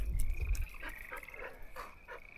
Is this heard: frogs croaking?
yes